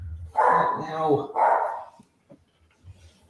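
Dogs bark in a Batman vs. Robin animated film playing on a screen, a couple of drawn-out, howling barks up close, followed by quieter scattered sounds while a person speaks briefly.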